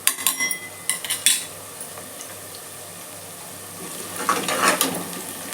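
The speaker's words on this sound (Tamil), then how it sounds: "இப்போ வெங்காயம் சேர்க்குறேன்" A metal spoon clinks and scrapes in a pan as onions go in for veg pulao, a few sharp clatters at the start and again near the end over a faint steady sizzle.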